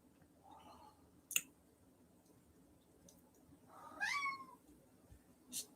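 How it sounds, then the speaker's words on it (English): A pet cat meowing indoors in the background: a faint early mew, a click, then one clearer drawn-out meow a few seconds later, all quiet against a low room hum. "That's my kitty cat Quincy meowing in the background if anyone can hear."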